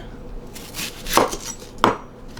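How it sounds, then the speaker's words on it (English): A knife cuts a medium onion into chunks on a board, two firm chopping strikes about half a second apart over a low kitchen background, close and fairly quiet, with no voices. "Just going to cut this into chunks"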